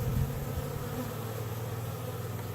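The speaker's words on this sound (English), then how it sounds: "Took advantage of the warm day to feed my bees a little sugar syrup." Honey bees buzz steadily at a Caribou, Nova Scotia apiary on a warm November day while being fed sugar syrup, a continuous close humming drone with no voices.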